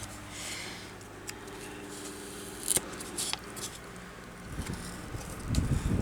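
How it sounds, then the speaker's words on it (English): Cutting stumpwork embroidery material, with a few sharp snips and clicks standing out over a quiet hiss, followed by a burst of louder handling noise near the end. "now we're going to whittle this, and we're going to cut it."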